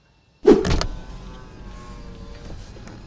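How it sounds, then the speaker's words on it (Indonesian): A Honda HR-V RS e:HEV power window motor starts with a sharp click and runs as a soft, steady whir, fairly close and fading slightly over a few seconds. "Dan tentunya sudah dilengkapi dengan auto up and down semua jendela."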